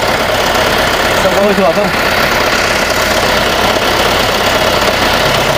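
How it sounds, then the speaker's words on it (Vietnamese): A used 2019 diesel truck with a cargo bed over four metres long idles steadily at close range, an even mechanical rumble with no knocking, and someone talking over it. "Chúng ta cùng nghe tiếng máy luôn nhé."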